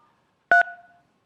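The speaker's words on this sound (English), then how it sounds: "Greg, you need to hit *3" Telephone keypad tone from a caller pressing star-3 to unmute on a city council conference call, a single short, clear two-tone beep that rings out and fades in a quiet line.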